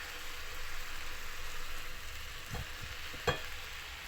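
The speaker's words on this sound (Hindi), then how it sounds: "यहाँ चिकन को फ्राई करते हुए मेरे 3 से 4 मिनट हो चुके हैं।" Chicken fries in a pan for a paratha roll, giving a steady, quiet sizzle close by with a couple of sharp clinks from stirring near the end.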